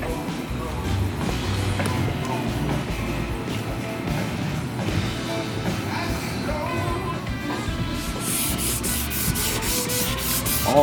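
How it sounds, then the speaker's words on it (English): Steady abrasive sanding on the inside of a 1948 Chevrolet Fleetmaster bumper, a continuous close rubbing scrape with a brighter hiss near the end. "All this is getting sanded so it's smooth on the inside"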